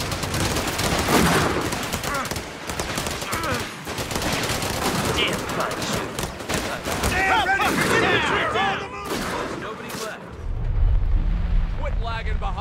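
Dense, sustained machine-gun and rifle fire as covering fire in a Company of Heroes 3 battle, continuous bursts layered over booming blasts, with voices shouting orders under the din and a low rumble near the end.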